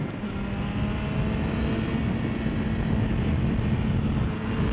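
Yamaha FZ1 motorcycle engine on a street ride, a steady droning hum with heavy wind rush that stays constant and fairly loud throughout, with no clear shifts or revving.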